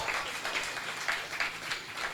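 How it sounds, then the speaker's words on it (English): Audience applause at a Nedbank business event in KwaZulu-Natal, a steady wash of many hands clapping for about two seconds, moderately distant and even. "I think we need to give Ubulelani as well a round of applause"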